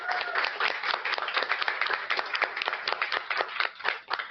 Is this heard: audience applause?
yes